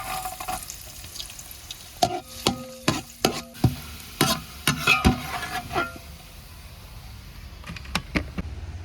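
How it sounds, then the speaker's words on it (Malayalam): Pieces of coconut frying in hot ghee while being stirred, with an even sizzle under a series of sharp scraping and clacking stirring strokes from a spoon against the pan, close up and moderately loud. "അടുത്ത് നമുക്ക് തേങ്ങാക്കൊത്ത് ഇട്ട് കൊടുക്കാം"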